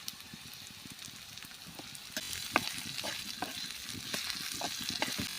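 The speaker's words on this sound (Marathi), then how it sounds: "घेवडा आपल्याला चांगला परतायचा आहे आणि मोठ्या आचेवरतीच परतायचा आहे." Beans stir-fried over high heat for veg Manchurian sizzle and crackle steadily in a pan, with scattered scraping stirs and clicks, close and fairly quiet, no voices.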